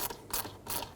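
A ratchet fitted with an 8mm socket tightens a hose clamp on a 4.0L V6 Ford Ranger, giving close, quick metallic clicking in about three short pawl bursts.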